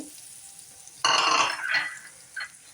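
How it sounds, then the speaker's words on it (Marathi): Onion-tomato puree hits a hot pan and is stirred in, a sudden loud sizzle that bursts in after a quiet second, then softer scraping and frying pulses close by, with no talking. "आपण ही जी कांदा आणि टोमॅटोची प्युरी बनवली घेतलेली ती टाकणार आहोत मस्त मिक्स करून"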